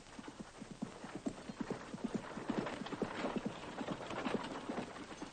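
Horse hooves clip-clop in a steady, rapid rhythm of many distinct, fairly close strikes that carry on throughout at a modest level with no talk.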